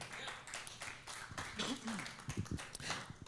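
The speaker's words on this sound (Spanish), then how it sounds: "Denle un fuerte aplauso al Señor" Church congregation applauding during a Spanish-language sermon, steady crowd clapping throughout with some voices and tapping mixed in, fairly close and full.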